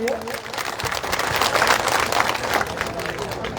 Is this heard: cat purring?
no